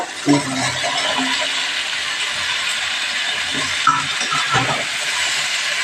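Spices sizzle in hot oil in a pan while preparing a yardlong bean dish, a steady bright hiss and crackle throughout, fairly close, with occasional stirring scrapes and no talk.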